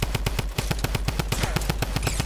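A drum gun in Fortnite firing a long, rapid full-auto burst, a fast even stream of punchy shots with heavy low thump, loud and close.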